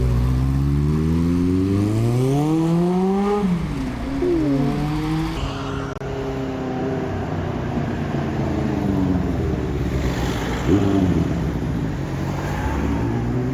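A restored Kawasaki GPX 600 R motorcycle revs and rises through gears as it rides off, the engine pitch climbing and falling in sweeps before fading into a more distant drone.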